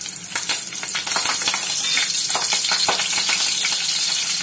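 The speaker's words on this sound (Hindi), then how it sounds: "2 बड़े चम्मच मैंने तेल डाला है, अब इसमें लहसुन डालेंगे" Crushed garlic and curry leaves fry in about two tablespoons of hot oil for a Konkani dish, giving a steady, close sizzle with crackling pops and bursts throughout, no voices.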